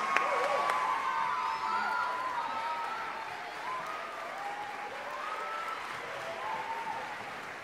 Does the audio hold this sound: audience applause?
yes